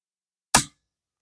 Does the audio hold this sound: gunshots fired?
yes